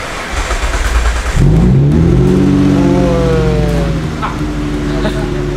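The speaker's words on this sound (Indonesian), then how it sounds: "Suara Bugatti." A replica Bugatti built on a 2000 Mitsubishi Lancer/Galant base starts up and revs, the engine roaring loudly close by with rising and falling revs outdoors.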